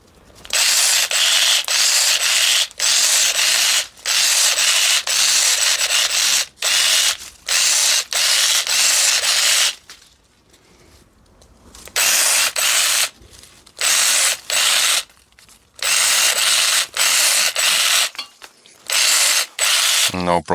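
A Parkside PGSA 14 A1 cordless 4V pruner shears cutting branches of roughly 6 to 8 millimetres, close-up bursts of whirring motor and ratcheting blade, repeated many times with brief pauses between cuts.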